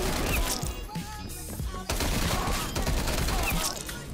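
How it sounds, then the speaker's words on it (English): Heavy artillery fire in Call of Duty Cold War, a sustained barrage of booming blasts and crackling gunfire filling the scene, loud and continuous with a few sharper impacts. "That's an artillery."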